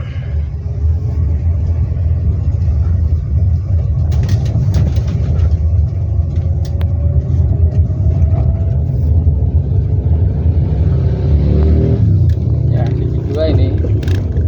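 A manual-transmission car driving in second gear gives a steady, loud low engine and road rumble that runs the whole way through, with a person talking over it.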